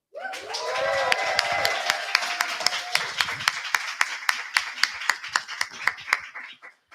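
A small audience claps, starting as a dense patter and thinning into slower, distinct claps before fading out.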